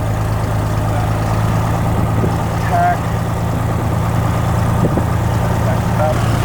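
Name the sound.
small aircraft engine idling during preflight run-up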